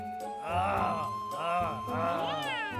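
A cat meows three times in drawn-out, wavering cries, close and fairly loud, with short pauses between each call.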